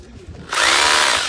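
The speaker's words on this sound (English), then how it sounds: "And I'm going to drill holes and make this secure." A power drill bites in after a quiet half-second lead-in and then whirs loud and steady, close by, while drilling holes to secure fittings on an old seafront building at Jaywick Sands.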